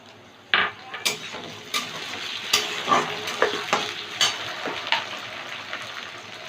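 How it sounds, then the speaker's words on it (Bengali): A large tomato fried with browned onions for an egg and chicken dish: a soft background sizzle under repeated close stirring strokes and spoon clacks against the pan, beginning with a sharp knock. "টমেটোটা একটু ভেজে নেব"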